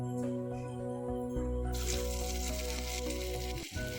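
Jackfruit kebabs fry in a pan, giving a steady soft sizzle that grows brighter and louder partway through over a constant low hum, with a brief dip near the end.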